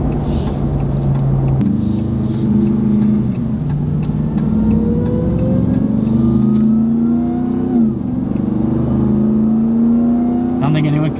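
A supercharged RAM TRX pickup engine revs up and down in several rising surges, with a loud, close growl and a climbing whine. Voices are faintly present under the engine.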